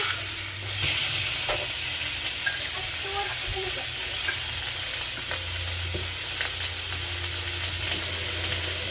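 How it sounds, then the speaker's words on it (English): Meat browning in a frying pan gives a steady, close sizzling hiss that runs the whole time, with a few faint clicks and clatters. "so I got my meat browning"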